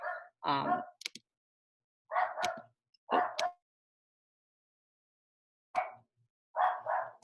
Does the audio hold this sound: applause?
no